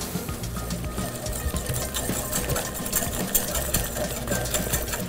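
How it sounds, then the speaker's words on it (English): Beer batter for deep-fried halibut being whisked in a bowl, a steady close rattling whir that runs continuously without pause. "let's whisk this up."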